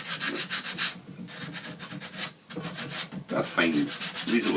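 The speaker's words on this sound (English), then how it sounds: "all you've got to do with it now is just give it a rub, take the roughness out of it all" A wooden walking stick hardened with PVA glue being hand sanded with fairly fine grit, close rhythmic rubbing strokes in repeated bursts with a brief pause midway.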